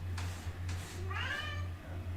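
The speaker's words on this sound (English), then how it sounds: "Sorry, my cat is, Milo is crying." A house cat meows a few times, trying to get into a room: two short cries followed by a longer, drawn-out wail, close by over a steady low hum.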